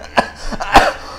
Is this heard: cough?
yes